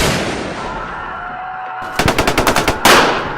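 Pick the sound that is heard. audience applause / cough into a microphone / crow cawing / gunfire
gunfire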